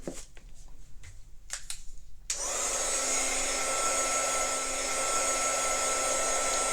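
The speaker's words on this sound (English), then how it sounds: "And I'm going to turn on my heat gun." A heat gun dries paint on a clay pot candy dish. It starts after a couple of seconds of faint handling clicks and rustling, then blows a loud, steady whooshing roar that holds until the end.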